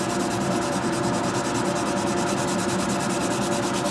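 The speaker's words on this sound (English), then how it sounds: "just with a sanding block try to get as much of it off the back as I can" Hand sanding the back of a model aircraft propeller blade with a sanding block, a continuous close rasping scrub with a fast, even back-and-forth rhythm and no pauses.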